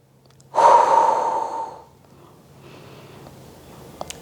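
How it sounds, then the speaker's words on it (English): A single breath during a glute bridge exercise: a strong, airy exhale lasting about a second, tapering off, then a quieter, softer inhale, close and alone. "exhale. And then inhale"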